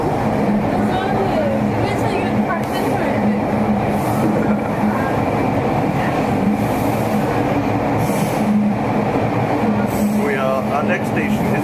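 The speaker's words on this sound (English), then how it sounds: "Here's our last subway trip in Toronto" A Toronto subway train runs through a tunnel, heard from the front car as a loud, continuous rumble and roar with rail clatter and faint wheel squeals, with some voices talking in the carriage.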